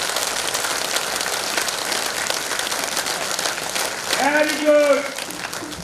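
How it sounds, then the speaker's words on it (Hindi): Dense, steady clapping from an audience at a C 20 program in Narmadapuram fills the clip as sustained broadband noise, with a brief spoken voice cutting through near the end. "एक बार अपने लिए खुद के लिए ताली बजाओ।"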